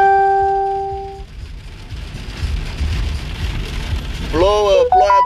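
Steady rain patters and hisses on surfaces outdoors in Iași, a dense wet wash throughout, opening with a sustained tonal ring and ending with a voice speaking over the downpour.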